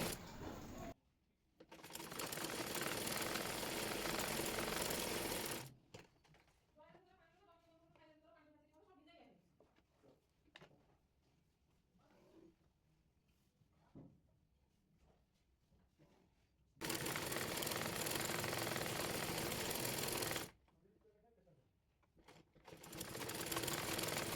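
A sewing machine runs in loud sustained bursts while stitching a button placket on a child's fatua, with quieter stretches of talking between the runs.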